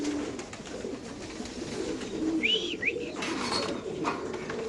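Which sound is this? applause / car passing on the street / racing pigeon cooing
racing pigeon cooing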